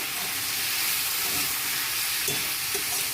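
Ginger, garlic, dried chilli and turmeric paste frying in a pan, a dense continuous sizzle and hiss with occasional soft spoon scrapes, close and fairly loud.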